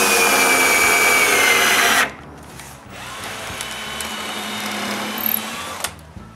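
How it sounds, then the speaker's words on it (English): A power drill whines loudly for about two seconds while pre-drilling holes in wooden window frames, then cuts off. It is followed by a quieter, lower whir as it drives 2-inch brass screws, ending in a few small clicks. "Then it's just a matter of pre-drilling pallet holes and screwing 2-inch brass screws."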